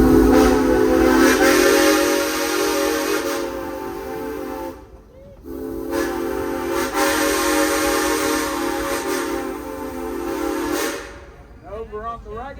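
A steam train running at Silver Dollar City theme park, with long sustained whistle blasts separated by short gaps over a steady low rumble of the train.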